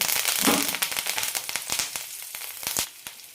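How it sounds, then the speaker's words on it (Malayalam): Curry leaves and dried red chillies crackle and sputter in hot oil in a frying pan while peanut idli podi is being made, a dense run of sharp close pops and sizzling bursts with no talking. "ഇനി ഇതിലേക്ക് കുറച്ച് കറിവേപ്പിലയും എരിവിന് ആവശ്യമുള്ള മുളക് കൂടി ഇടാം"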